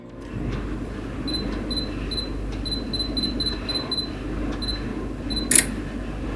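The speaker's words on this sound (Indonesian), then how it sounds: "Bahkan suara autofokusnya khas banget nih," Autofocus on a Sony Xperia 1 II phone camera: a run of short, high electronic chirps and ticks repeating at an irregular pace, close up over a steady low hum, with one louder click near the end.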